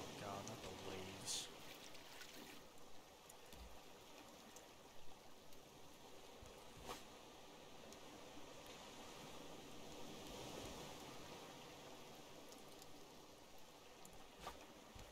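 Ocean waves in the video game Raft wash in a faint, continuous rushing surge with a few soft splashes, heard quietly throughout.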